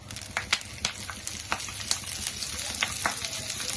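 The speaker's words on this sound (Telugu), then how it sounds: "ఇది మునగాకు మనం కడిగి పెట్టుకున్నాం కడిగి పెట్టేసి ఆరబెట్టేసుకున్నాం దీన్ని ఇప్పుడు వేయించుకున్నాం" Moringa leaves sizzle steadily as they fry in a pan, with crackles and scattered scrapes and taps from stirring, close and continuous.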